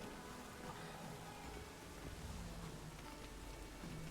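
Steady rain falls in The Witcher 3, a soft even wash of drops over a city plaza, continuous and fairly quiet with no voices.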